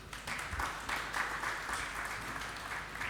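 A church congregation applauds and cheers for the Lord, with sustained clapping from a crowd rising and falling in waves for a few seconds.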